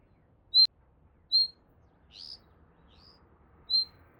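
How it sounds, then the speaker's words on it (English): A bird gives short, high chirps, about five spaced out unevenly, clear against a quiet background, at a snowy high-altitude Himalayan farm in winter. "You have birds chirping, welcoming you as you enter."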